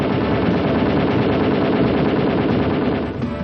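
A Browning machine gun fires a long continuous burst of rapid automatic shots, loud and sustained, with no pauses and no talk.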